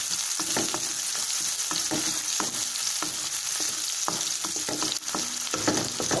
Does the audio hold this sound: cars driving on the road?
no